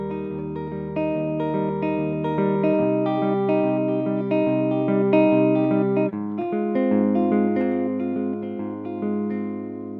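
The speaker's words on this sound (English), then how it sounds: "its distorted sound is very, very specific. It doesn't have tight bass or anything like that." Thick, fuzzy distorted bass tone from a Sunn Beta Bass amplifier playing sustained notes and chords, loud and steady with a buzzing, saturated edge throughout.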